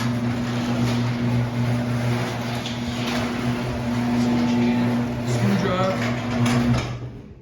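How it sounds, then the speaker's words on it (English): A garage door opener motor drives a 16x7 CHI 2250 almond door, a steady mechanical hum with a strong low drone running close and continuous for about seven seconds before cutting off abruptly. "Reconnected the old motor."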